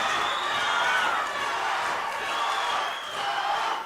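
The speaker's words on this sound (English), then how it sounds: "the crowd come to fever pitch now" A boxing crowd roars continuously at a title fight as the action heats up in the fourth round, a dense wash of cheering and shouting that stays loud and steady throughout, with no individual voices standing out.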